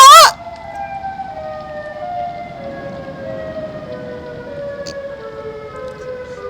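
In Garry's Mod, the Siren Head monster gives a loud burst followed by sustained, slowly falling siren tones, droning steadily over faint background noise.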